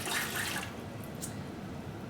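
Warm water, one cup, poured into a bread machine pan, giving a brief close splashing pour that fades after about half a second into quiet room noise.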